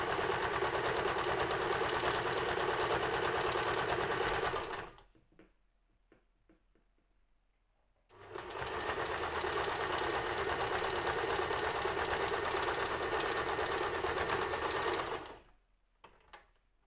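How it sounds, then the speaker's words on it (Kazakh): Sewing machine stitching fabric in two long, loud, steady runs of rapid needle chatter, separated by a quiet pause with faint handling clicks, close up and without speech. "Жаймен тіге бастаймыз."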